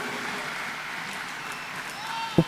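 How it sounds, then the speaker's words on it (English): Faint, distant applause from a crowd at an outdoor National Day parade greets marching cadets, a soft continuous patter ending with one sharp knock. "a round of applause"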